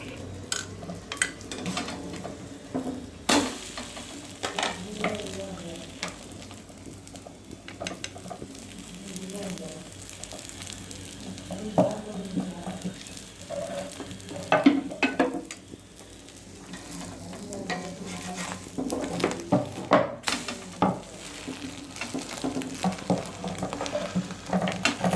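Murtabak, a stuffed flatbread brushed with egg, frying on a hot pan: a long low sizzle with repeated spatula taps, scrapes and clatter of cookware, intermittent faint voices in the background.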